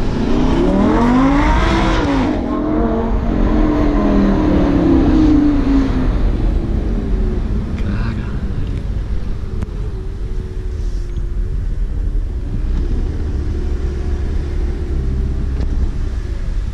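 A Lamborghini Gallardo Super Trofeo Stradale accelerates hard, its engine loud and close. The revs climb through the gears, then settle into a deep, steady rumble.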